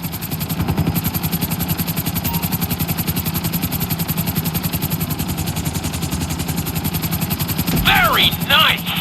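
A helicopter flies in GTA San Andreas with a loud, steady rhythmic rotor chop throughout, joined near the end by a short burst of sharper game sounds.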